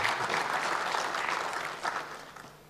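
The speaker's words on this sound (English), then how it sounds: "Please clap to welcome Rhys." A conference audience applauds to welcome a speaker, with steady, moderately loud clapping from many hands that slowly fades toward the end.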